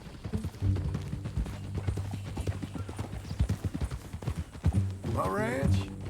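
Horse hooves clip-clop steadily on a trail while riding in the Red Dead Redemption II western video game, with a brief whinny near the end and characters talking over the hoofbeats.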